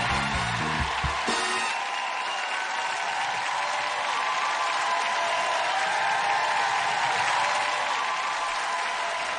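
A large television studio audience claps steadily, a dense sustained wave of applause lasting several seconds after a brief burst of music at the start.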